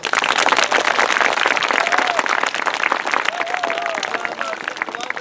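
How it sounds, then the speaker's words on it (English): Sustained audience applause at an outdoor elementary school ribbon cutting for a new communications tower, dense clapping throughout with crowd murmur and a few voices underneath. "give them a big round of applause"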